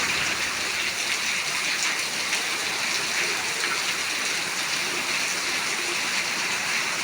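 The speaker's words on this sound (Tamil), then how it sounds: "பாருங்கள் மழை திருப்பூரில் பயங்கரமாக அடித்து தண்ணி ஊற்றிட்டு இருக்குது." Heavy rain pours down in Tiruppur, a steady, dense hiss of water hitting surfaces that stays loud and even throughout, with no voices over it.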